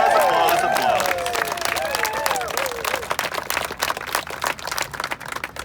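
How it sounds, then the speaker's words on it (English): Crowd applauding at a groundbreaking ceremony for a new central library in downtown Guelph, a dense, steady wash of many hands clapping with scattered cheers and whistles, thinning slightly toward the end. "Applause, applause, applause."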